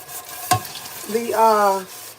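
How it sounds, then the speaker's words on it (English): Onion and tomato paste cooking together in a pan for jollof rice, with a stirring scrape and a soft steady sizzle underneath; a brief tonal squeak or voice-like hum rises near the end. "I have to take onion and tomato paste and like kind of cook that together"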